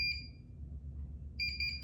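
A Daeil Tech KL1 pill counter gives off electronic alarm beeps: a single short tone, a pause, then a quick burst of repeated high-pitched beeps, heard close up over a low background hum.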